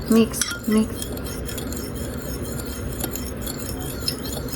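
A utensil stirs water into miso soup in a glass or bowl, with a few sharp clinks early on, then a continuous swishing mix underneath, close and moderately loud.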